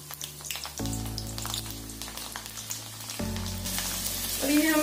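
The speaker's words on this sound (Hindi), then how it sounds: "जीरा थोड़ा सा तड़क जाए तभी हम इसमें डाल देंगे लहसुन की कलियां" Cumin seeds and garlic cloves frying in hot oil in a kadhai, a soft steady sizzle with a sharper burst as the garlic goes in, fairly quiet and close.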